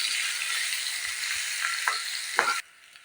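Steady hiss of onions frying in a pan, with a few soft scraping stirs near the end before the sizzle cuts off abruptly.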